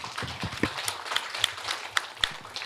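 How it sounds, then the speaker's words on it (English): Light applause from the audience at the close of an evening panel-of-experts event, a thin spread of scattered claps with a few sharper individual hand claps standing out, brief and moderately quiet. "I would like please to give a round of applause to the presence"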